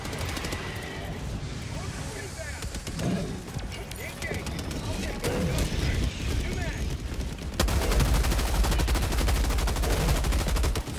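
Machine gun fire in Helldivers 2 during a bug tunnel breach, dense rapid bursts that get louder and heavier near the end, with players talking excitedly over the shooting.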